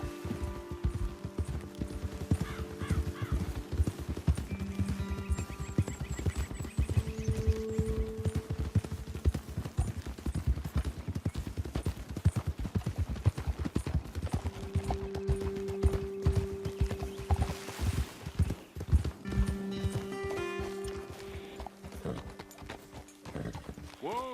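Horse hooves clip-clop steadily at a walking pace in the video game Red Dead Redemption 2, several horses close by, with light ambient noise and occasional soft tones in the background.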